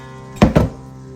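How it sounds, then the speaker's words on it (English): A bag of flour and cornmeal mix placed in a freezer, two quick dull thunks in close succession, loud and near, with a faint steady hum behind them. "Put the bag in the freezer."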